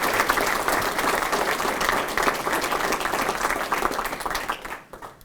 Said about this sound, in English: please, if you don't mind, just one more round of applause for all of our students